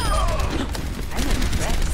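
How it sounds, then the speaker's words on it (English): Overwatch rocket barrage ultimate fired during a late-night match, a dense continuous rattle of rocket blasts and impacts filling two seconds at steady loudness, with players talking over it. "Rocket barrage incoming!"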